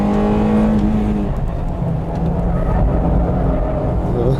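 A Honda Integra Type R DC2 with VTEC engine, 1995, screams through a corner at high revs, its pitch sliding down then climbing again, loud and close with a voice talking over it.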